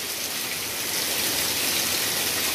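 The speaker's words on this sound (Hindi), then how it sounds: "आप देख सकते कितनी टेढ़ी बारिश हो रही है" Heavy rain driven slantwise by strong wind pours down in a dense, steady hiss outdoors, loud and unbroken throughout with no voices.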